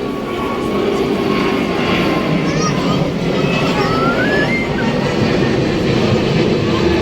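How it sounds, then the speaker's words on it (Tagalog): A large airplane passes overhead at an outdoor gathering of fans, its steady engine roar filling the scene as a broad continuous drone, with crowd voices and talk mixed underneath. "Ayan, may aeroplano, ang laki."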